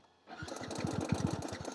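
A failing Yamaha motorcycle engine runs rough, starting after a brief quiet moment with an uneven, lumpy chugging of irregular low pulses, loud and close, with no talk over it.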